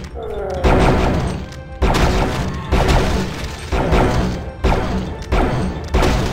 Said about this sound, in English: This gun is stupidly powerful.